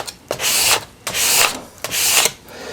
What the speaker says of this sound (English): So I'm going to use a steel scraper to remove excess Pitex from the ski.